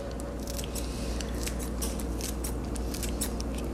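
Scissors snip greens into thin strips over a bowl of vegetables for a spaghetti squash dish, giving a rapid run of crisp close cuts against a steady kitchen hum.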